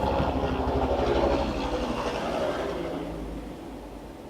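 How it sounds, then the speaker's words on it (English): A helicopter passes low over a house with a loud, steady broadband roar and deep rumble that slowly fades over a few seconds. "Did a helicopter just like land on my house or what?"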